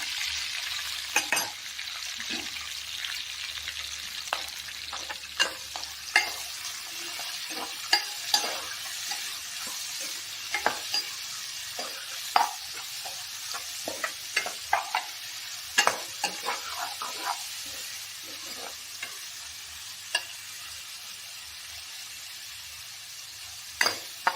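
Onions frying in a pan for Andhra-style fish curry, a steady close sizzle broken by frequent sharp scrapes and clicks of a spoon stirring, with no voices.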